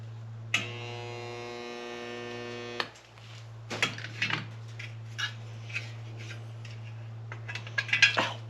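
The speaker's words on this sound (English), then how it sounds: "going to employ the good old Harbor Freight spot welder" A Harbor Freight spot welder buzzes loudly with a strong electrical hum for about two seconds while welding metal, followed by scattered metallic clicks and clanks over a steady background hum.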